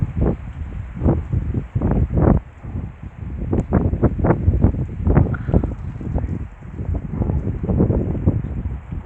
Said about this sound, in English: Oh, this is so windy, so I'm going to let the wind pass through.